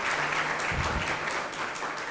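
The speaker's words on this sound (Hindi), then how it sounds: "जोरदार तालियों से उनका स्वागत करें" Enthusiastic audience applause welcoming donors at a Jain religious gathering, a dense, sustained wash of clapping from a large crowd throughout, loud and close.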